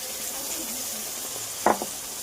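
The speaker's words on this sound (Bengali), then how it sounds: "এখন আমি বেটে রেখেছিলাম যে মশলাটা, ওটাই দিয়ে দেবো" Ground spice paste meets fried onions in hot oil for a chicken curry, giving a steady close hiss of sizzling with a short sharp burst as the paste lands.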